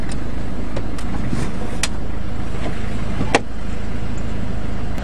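A car engine left running: a steady low idle hum fills the whole stretch, loud and close, with a few faint clicks and knocks over it and no talk.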